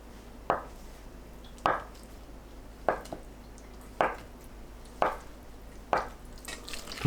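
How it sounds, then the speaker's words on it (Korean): A knife cuts a block of tofu into bite-size pieces on a cutting board, six crisp, evenly spaced knocks about a second apart in a quiet kitchen. "두부를 한 입 크기로 썰어주세요."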